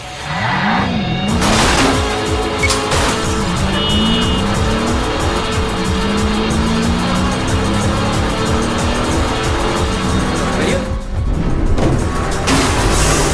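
Engine roar and tire squeals from a Pontiac driving in the video game Wheelman, loud and continuous with revving pitch sweeps and skids throughout, no speech.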